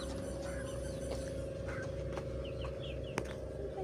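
Chickens clucking softly in a yard, a few scattered calls over a steady low hum, faint and somewhat distant.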